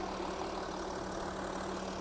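A 2.7 turbo diesel car engine ticks over at a steady idle with a constant low hum and faint mechanical clatter, heard from close by in the engine bay, even and unbroken.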